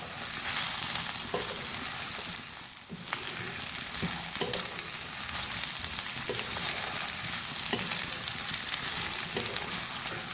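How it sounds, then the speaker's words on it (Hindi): Radish pieces frying in mustard oil over a medium flame, a loud steady sizzle with bubbling and a few faint clinks of stirring, no voices. "मूलियों को हम सबसे पहले सरसों के तेल में फ्राई करेंगे"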